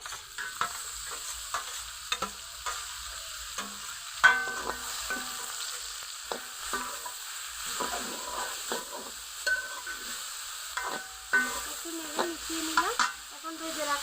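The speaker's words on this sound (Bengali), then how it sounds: "রসুনগুলো ভাজা ভাজা করে নিয়েছি আর যখন খুব সুন্দর সুগন্ধ ছড়াবে তখনই শাকগুলো দিয়ে দিতে হবে" Pumpkin greens go into a pan of fried garlic for a shrimp dish, with a soft sizzle under repeated spatula scrapes and knocks that sound close and irregular throughout, with no voices.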